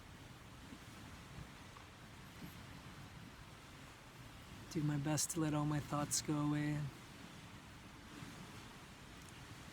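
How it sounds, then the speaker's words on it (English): Gentle ocean waves wash against the shore at sunset, a soft steady surf hiss throughout, with a person speaking briefly over it partway through. "listening to these little gentle waves crash"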